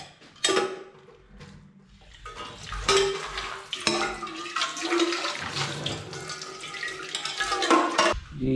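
Water is poured and splashes into a vessel in a home kitchen while making tea, with clinks of pots and utensils mixed in throughout.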